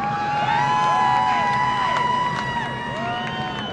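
Race-track crowd at Milwaukee cheering Paul Menard's 2006 win, a sustained roar of cheers and whoops under a steady whine of race engines and a voice talking over it.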